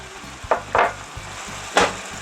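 Ground beef browns in a skillet with a constant low sizzle, broken by three short scraping bursts of stirring spaced across the couple of seconds, close and clear with no talking.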